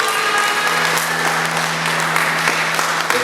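A crowd at a live music performance applauds and cheers, a dense, loud, continuous roar of clapping with a steady hum running underneath.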